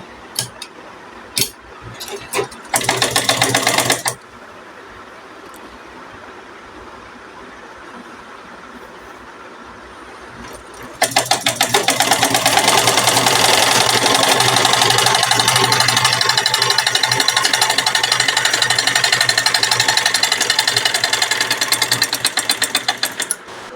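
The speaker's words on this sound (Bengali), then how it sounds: "প্রথমে ছোট একটা ভাঁজ দিয়ে তারপর 1 ইঞ্চি বরাবর একটা ভাঁজ দিয়ে আমি সেলাই করে নিব।" A sewing machine stitches a folded fabric border on a child's garment, running loud and close in a short burst, going quiet for several seconds, then whirring steadily in a long continuous run.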